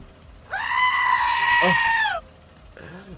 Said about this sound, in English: Thank you very much for the goat scream